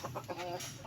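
A fighting rooster gives a few short, close clucks in quick succession while being handled, its soft throaty calls rising and falling over about a second.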